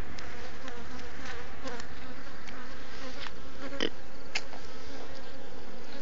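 Dense swarm of bees buzzing continuously and loudly throughout, with a steady droning hum and occasional closer passes.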